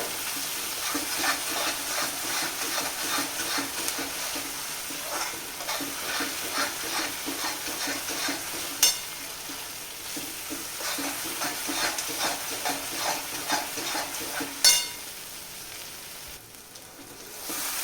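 Masala frying in hot oil in a pan for a Khandeshi besan gatte curry, a steady crackling sizzle with scraping stirs throughout and two sharp utensil knocks, fairly quiet and with no talk.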